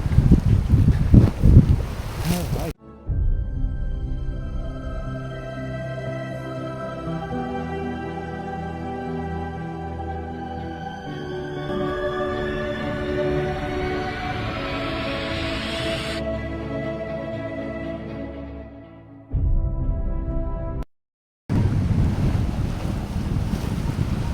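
Strong monsoon wind roars across the microphone over high waves crashing against a dike and a droning boat engine, with a brief break in the sound near the end.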